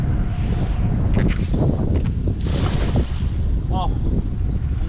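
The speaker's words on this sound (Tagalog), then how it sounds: "Oh, ang lakas ng hangin." Strong wind buffets a fishing boat at sea with roaring gusts and rushing water throughout, loud and close, with brief faint voices.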